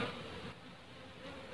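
A dense, steady insect buzz of many honey bees droning close by during a hive transfer, continuous and fairly loud throughout, with no voices.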